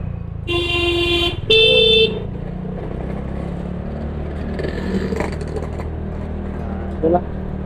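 Congested road traffic heard from a motorcycle caught in a jam among angkot minibuses, with steady engine rumble, two loud car horn blasts near the start and a brief short toot later, all close by.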